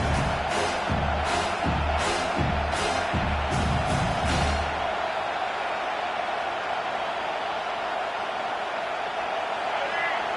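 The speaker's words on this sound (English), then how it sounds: "The roar of the crowd trying to fuel this defense to keep them pinned in their own end." A loud, continuous crowd roar fills an American football video game stadium, with a voice talking over it during the first half before the roar carries on alone.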